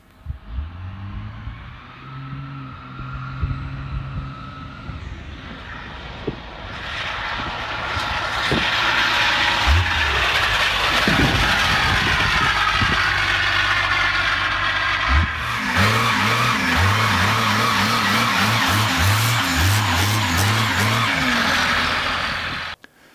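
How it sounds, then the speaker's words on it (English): Twin 5.9L compound-turbo Cummins diesel engines in a 1970 Dodge start fairly quiet, then swell into a loud sustained roar with revving surges and turbo whine before cutting off abruptly. "here are the twin Cummins in the 1970 Dodge in action."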